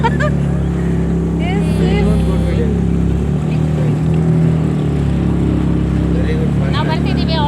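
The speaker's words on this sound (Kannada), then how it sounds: "ಆಲ್ರೆಡಿ ಇನ್ನೊಂದು ಬೋಟಿಂಗ್ ಸ್ಟಾರ್ಟ್ ಆಗ್ತಿದೆ." A motor-driven pleasure boat runs on the lake at Cubbon Park's Bal Bhavan in Bangalore, with a loud, steady engine drone close by as people talk continuously over it.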